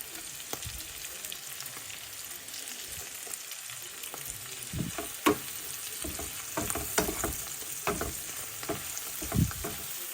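Onions fry in oil in a pan with a steady crackling hiss, broken by scattered pops and a few stirring clicks that grow busier toward the end.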